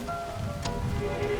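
Steady rain falling outside, a dense even patter of drops on surfaces with a faint tonal hum beneath it, continuous and moderately close with no talking.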